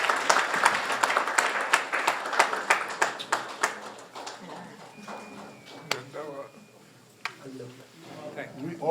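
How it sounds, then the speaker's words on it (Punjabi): An audience applauds for Iqbal Mahal at a Punjabi gathering in Canada, a dense burst of clapping that thins out after a few seconds while a voice speaks over it. "ਬਹੁਤ ਜ਼ੋਰਦਾਰ ਤਾਲੀਆਂ ਇਕਬਾਲ ਮਾਹਲ ਸਾਹਿਬ"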